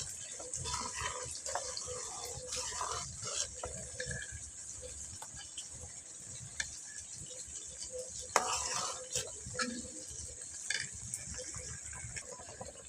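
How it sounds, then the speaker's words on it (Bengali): Semai payesh (vermicelli milk pudding) stirred steadily in a pot, with a continuous soft scraping and wet swishing plus faint sizzle, moderately close, with no talking. "এভাবে অনবরত নেড়তে হবে,"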